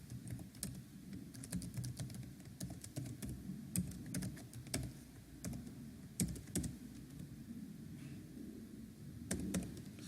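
Steady typing on a computer keyboard while writing an XPath expression, with irregular quick key clicks and occasional louder strikes running continuously at close range over a low background hum.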